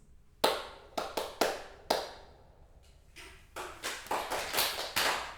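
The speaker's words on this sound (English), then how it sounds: "I will ask you to clap the rhythm after me" Rhythmic clapping of a Philippine song-dance rhythm from the Spanish colonial period: a quiet series of sharp, separate hand claps in an uneven pattern, a sparse group at first, then a denser run near the end.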